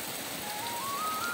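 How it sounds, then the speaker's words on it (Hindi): Steady, dense hiss of heavy rain pouring down on a surface, continuous and unbroken, with a faint rising tone drifting in near the end. "ये देख सकते हो कितनी बारिश आ गई है"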